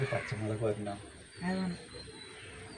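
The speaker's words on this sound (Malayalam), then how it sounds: "വല്ലാത്ത സൗണ്ട് കാക്കയ്ക്ക്." A crow caws once, loud and close, at a home kitchen in Kerala, with people talking in Malayalam just before it.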